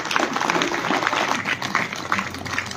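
A crowd at an awards ceremony claps loudly and continuously, dense applause filling the whole moment.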